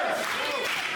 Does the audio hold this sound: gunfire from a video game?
no